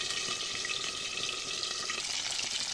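Whole paneer pieces fry in hot oil in a pan, giving off a steady, dense sizzle and crackle that continues without a break.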